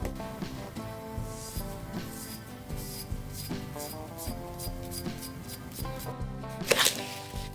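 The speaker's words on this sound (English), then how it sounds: "Grate the zest of a lemon and add the salt." A lemon is zested on a grater, giving repeated rhythmic scraping strokes, fairly close and steady, with a sharper clatter near the end.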